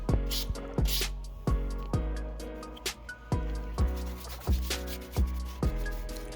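Furniture surfaces being sanded smooth before priming, heard as close, steady back-and-forth rubbing strokes in a regular rhythm, about two per second, with no talking.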